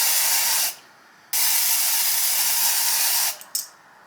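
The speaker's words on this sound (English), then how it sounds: "I'm gonna put it like this and just spray it in." Lace tint sprayed onto a synthetic ginger wig: three hissing aerosol bursts, the first under a second, a longer two-second spray, then a short sputtering puff, close and loud.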